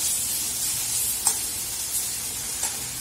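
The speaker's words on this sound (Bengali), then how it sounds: "দুটো পোস্ত ছড়িয়ে দিয়েছি, পেঁয়াজ রসুন দিয়ে ভাজছি," Leafy greens frying in a pan with onion, garlic and a scattering of poppy seeds, a steady close sizzle with a few soft stirring scrapes breaking through, no voices.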